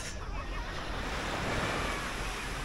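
Surf washing steadily onto Nagahama sea bathing beach on a Saturday in late August, a continuous broadband rush of breaking waves with some wind noise against the microphone, no voices.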